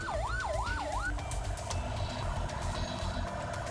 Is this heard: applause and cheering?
no